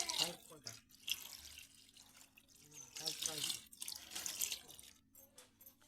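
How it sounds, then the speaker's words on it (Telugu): Water poured into mixed flour to make dough for appalu, heard as a tap-like running and splashing that comes and goes under a person talking. "దాని తర్వాత వాటర్ పోసుకొని ఇక కలుపుకోవాలి."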